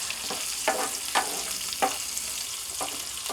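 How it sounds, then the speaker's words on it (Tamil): Onions sauté in cold-pressed sesame oil for an anchovy fish curry, giving a soft, steady sizzle broken by several scraping stirs of a spatula at irregular intervals. "வெங்காயம் வந்து இந்தளவுக்கு வதங்கினா போதும்."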